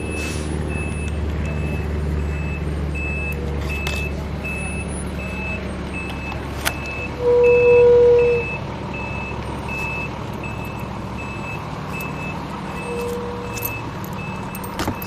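A camera drone beeps after a forced landing at a police scene involving a barricaded suspect, with a steady train of evenly spaced electronic beeps and one longer tone over a low vehicle-like rumble.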